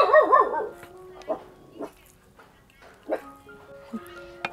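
A dog barks a few times in short, separate bursts, with a louder cluster of yelps at the start and sparser barks after.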